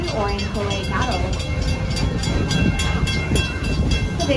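The Serengeti Railway train at Busch Gardens Tampa rolls along its tracks, a steady rumbling clatter with faint rhythmic rail clicks and a high metallic ring, heard up close beneath a narrator's voice over a loudspeaker.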